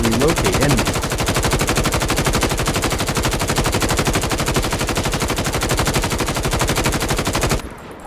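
A gun being hip-fired in Call of Duty Mobile, a continuous rapid burst of automatic fire lasting several seconds, loud and up close, ending abruptly.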